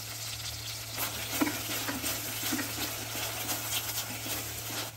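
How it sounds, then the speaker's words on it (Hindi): Golden onions with ginger garlic paste are stir-fried, making a constant, fairly loud sizzle with irregular stirring scrapes over a low steady hum. "इसमें डालिए 2 टेबलस्पून भर के अदरक लहसुन का पेस्ट। अच्छे से भूनिए।"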